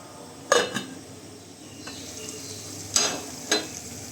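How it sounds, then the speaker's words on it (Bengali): Mutton curry cooking in a pot on a stove at medium heat, a low sizzle broken by a few sharp clinks and scrapes of a spoon against the pan. "তিরিশ মিনিট পর আমি মাংসটা চুলায় দিয়ে দিলাম মিডিয়াম জালে"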